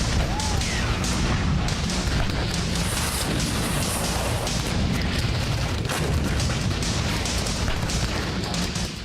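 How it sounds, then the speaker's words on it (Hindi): Dense, continuous rumbling booms and blasts of heavy bomb explosions on a battlefield in Nagorno-Karabakh, loud and sustained, with crackling debris noise throughout and no clear pauses. "आर्मेनिया ने ऐसा बम फोड़ा जिसके धमाके से युद्ध के मैदान में बारूदी सुनामी सी आ गई"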